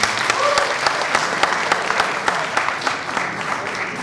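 An audience at a film festival kick-off event gives a round of applause, with a crisp, steady patter of many hands clapping at moderate loudness throughout.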